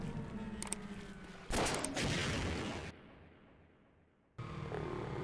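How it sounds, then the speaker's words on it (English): Gunfire in the video game Half-Life 1 comes as loud, dense bursts of rapid shots with a mechanical edge, cutting in and out abruptly between quieter stretches of game ambience. "Oh, he's shooting."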